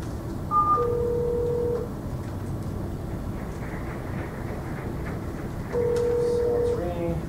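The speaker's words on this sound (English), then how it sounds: "So it's ringing, answer it." Over a low hum, an Asterisk VoIP call plays touch-tone dialing beeps, followed by two long electronic ring tones with a pause between them.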